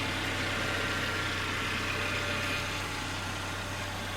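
A 1998 Saturn SL2 sits idling, its engine giving a steady, close, continuous hum with a low droning tone and no variation in pace, and no talk over it.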